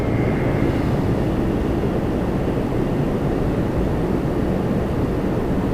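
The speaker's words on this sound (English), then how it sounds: "WestJet 816 is off to Montreal, 737." A WestJet Boeing 737 takes off at Toronto Pearson, its engines a steady, dense broadband roar that holds at a constant level from start to finish, with no voices over it.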